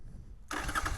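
A Norton Commando 961 motorcycle engine starts abruptly, cutting from near silence into a loud, close, steady rumble that carries on to the end.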